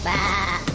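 A single sheep gives one short, loud, wavering bleat close by, standing alone.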